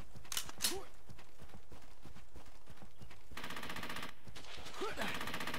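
Rapid bursts of gunfire in a World War II shooter game, Brothers in Arms: Hell's Highway, with sustained automatic fire in the second half under shouted voices and other battle noise.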